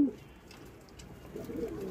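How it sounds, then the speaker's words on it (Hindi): A pair of Moradabadi pigeons coo softly and low, a faint murmuring call close by that rises slightly toward the end, heard without talk. "यह है मोरवादी कबूतर।"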